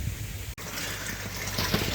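Water filling a fish pond filter tank, a continuous rushing gush and trickle with one brief dropout, steady and close.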